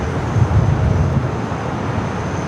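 A Lufthansa Boeing Dreamliner airliner in 100-year anniversary livery landing at LAX, heard as a steady, fairly loud low rumble of jet engines with broadband roar, continuous throughout with no voices.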